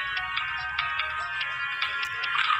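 Repeating electronic ringtone-like chime in a fish-eating video game, bright pulsing tones at an even rhythm over faint background, no talk.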